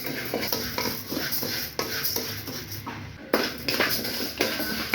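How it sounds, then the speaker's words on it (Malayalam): Rice being dry-roasted and stirred in a pan for idli batter powder, with continuous scraping and rattling of grains against metal and occasional louder clanks, close up. "അരി നമുക്ക് കുറേശ്ശെ ഇട്ടിട്ട് വറക്കാം."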